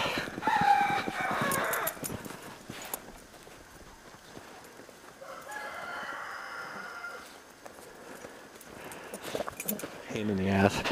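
Hens clucking in a backyard chicken coop with roosters nearby, moderately close and mixed with shuffling, rustling and other farmyard noise.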